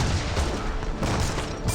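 Muskets fire a volley during an Age of Empires 3 battle. Overlapping cracks rumble together in a dense, moderately loud burst, followed by a second flurry near the end.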